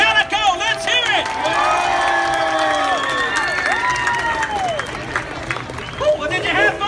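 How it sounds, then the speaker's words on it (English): A crowd at the Ghost Town Alive finale in Knott's Berry Farm's Ghost Town cheers, whoops and claps, with children shouting and loud whistle-like calls rising over steady applause, and a voice now and then in the mix. "Let's have a round of applause for Calico."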